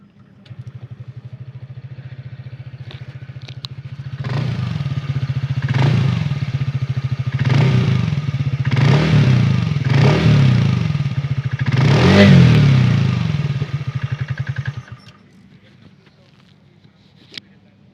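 A TVS Ntorq 150 scooter engine idles with a steady exhaust beat, then revs in five sharp throttle blips before dropping back and cutting off, close and loud with no talk.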